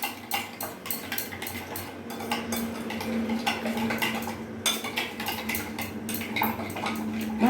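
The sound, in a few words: stirring spices and sugar in a pan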